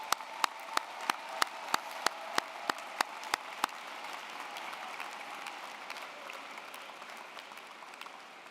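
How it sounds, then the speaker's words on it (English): Graduates and audience at a university architecture, design and arts spring commencement applaud; about a dozen sharp, evenly spaced nearby claps come first, then a softer, broad wash of crowd clapping continues to the end. "Go ahead and give yourselves a round of applause."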